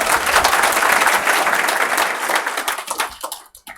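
A packed seminar audience bursts into loud, dense applause that holds steady, then thins into scattered individual claps and trails off toward silence at the end.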